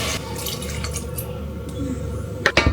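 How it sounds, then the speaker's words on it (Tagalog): Water poured into a pan of sardines gives soft trickling and a few sharp drips and splashes near the end, close by and moderately loud over a low background hum. "Lagyan natin ng tubig para hindi sayang."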